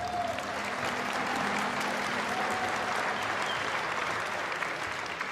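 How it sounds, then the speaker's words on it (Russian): A fight-night crowd applauds the fighters after a bout, a dense, continuous wash of clapping from a large audience, heard at a distance and steady throughout. "аплодисменты бойцам!"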